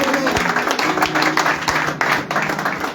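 A church congregation at an evangelistic service claps and cheers for Jesus, dense rhythmic clapping with crowd voices filling the whole stretch at a loud, steady level.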